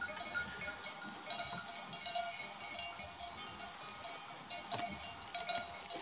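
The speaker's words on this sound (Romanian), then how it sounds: "Și aici sunt oile și caprele." Flock of sheep and goats at a mountain sheepfold with shepherd dogs, heard as faint scattered bleats and jingling bells, distant and soft throughout.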